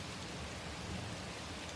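Steady rain falls outdoors during a thunderstorm in Oxford, UK, a constant dense hiss of drops with no talking.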